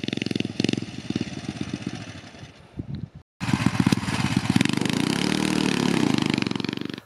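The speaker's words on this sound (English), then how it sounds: "So here's my brother's BT200X Coleman mini bike with that Ghost engine installed." Coleman BT200X mini bike fitted with a Predator 212 Ghost engine runs steadily nearby, its small single-cylinder putter cutting out briefly and then returning louder and fuller, as if throttled up, with no talking.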